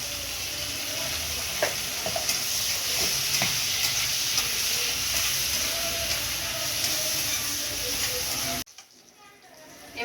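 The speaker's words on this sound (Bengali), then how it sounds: "ফুলকপিটা একটু হলুদ দিয়ে ভালো করে ভেজে নেব।" Cauliflower pieces frying with turmeric in a pan give a steady, close sizzle with occasional stirring scrapes, then cut off abruptly near the end into near silence.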